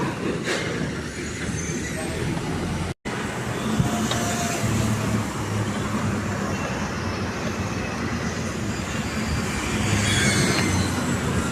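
A metro train runs through a station with a steady, loud rumble, rattling wheels and a thin metallic squeal that persists over several seconds.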